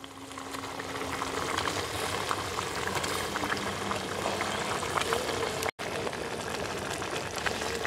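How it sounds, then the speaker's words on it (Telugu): Moyyi fish pieces go into a pot of bubbling Nellore-style fish curry, giving a dense, continuous close bubbling and simmering wash with a brief break near the end. "మొయ్యి చేప ముక్కలు అయితే వేసేసుకుందాం"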